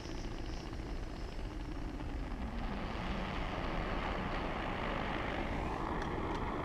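Steady broadband roar of an MSR Windburner camping stove burner flame, a constant close hiss and rumble that continues evenly throughout with no talking.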